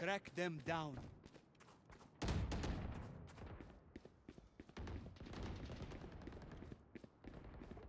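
Gunfire from the Valorant video game, quick bursts and single shots scattered through the clip, mixed with game effects and footsteps at a moderate level, with a voice talking briefly at the start.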